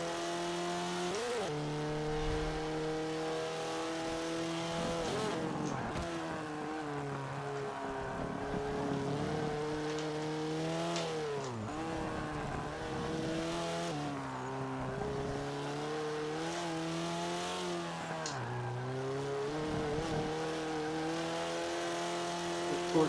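A race car engine in a racing video game, running a community tune, revs and shifts continuously through laps. The loud whining tone climbs and drops repeatedly as the car brakes and accelerates through corners, with faint tyre squeal and no talking.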